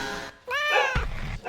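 A house cat gives a single clear, rising meow near the microphone, followed by a short thump and brief handling noise.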